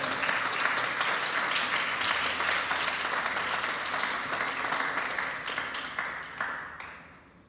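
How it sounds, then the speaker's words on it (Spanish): A church congregation gives a loud, sustained round of applause that fills the room, then gradually tapers off toward the end. "Si usted cree en esto, déle un fuerte aplauso al Señor."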